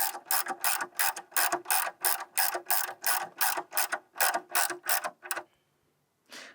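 Rapid ratcheting clicks as a turbocharger coolant line fitting with a copper washer is snugged down on a 2011-2015 Mini Cooper S, loud and close, in steady bursts of about a dozen strokes before stopping.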